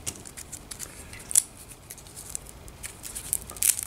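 Leaves are pulled one by one off a pineapple crown to prepare a cutting, giving faint dry snaps and tearing rustles, a few sharper tugs standing out against quiet background.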